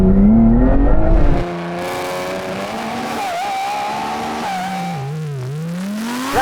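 A Lamborghini Revuelto accelerates hard in a drag race against a 1000 hp BMW M3 Touring and Audi R8, a loud rising engine roar that drops after a gear change and climbs again, with tire noise throughout.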